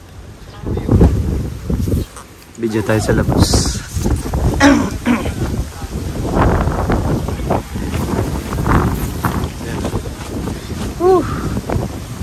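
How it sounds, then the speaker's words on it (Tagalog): Strong gusts roar and buffet against the microphone at a campsite in Cavinti, Laguna, with tent fabric flapping and rattling, while a person speaks briefly over the wind. "Ilang beses nang dumadapa itong tent dahil sobrang lakas ng hangin."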